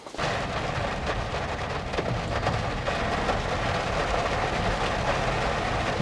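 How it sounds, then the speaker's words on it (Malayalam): Heavy rain pours down steadily on a drive between Munnar and Kanthalloor via Marayoor, a dense, loud, unbroken roar lasting throughout with no voices. "ഇപ്പോഴും നല്ല അടിപൊളി മഴ പെയ്തോണ്ടിരിക്കുകയാണ്"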